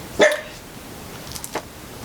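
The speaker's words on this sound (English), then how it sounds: "Oh, and there's my dog." A dog gives one sharp, loud bark nearby in an indoor room, followed about a second later by a softer, shorter bark.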